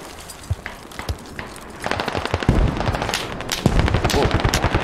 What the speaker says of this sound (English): These mortars are ferocious.